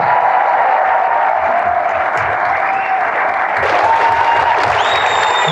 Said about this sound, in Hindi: आज आप लोग अपने लिए एक बार तालियां बजाओ यार